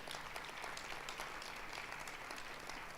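A conference audience applauds together, a dense, steady patter of clapping hands that holds at an even level throughout, with a faint voice underneath.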